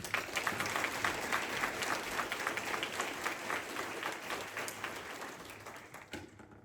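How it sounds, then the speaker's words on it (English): An audience applauds steadily through a military Basic Leader Course graduation ceremony. The dense, sustained clapping fills a large hall and fades out at the end. "Please give a round of applause to those who exceeded course standards."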